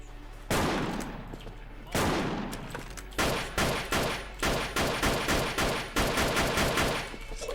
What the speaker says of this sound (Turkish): Ben vurdum. Evet ben vurmuşum.